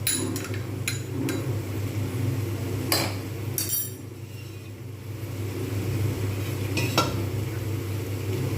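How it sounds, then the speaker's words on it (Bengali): Matar dal with ginger paste and a little water is stirred and sautéed in a pan, a low steady sizzle running underneath while a spatula strikes and scrapes the pan in a few sharp, close, irregular knocks. "কন্টিনিউ এটা আমি নাড়তে থাকবো সঙ্গে একসঙ্গে ভালো করে কষিয়ে নেবো"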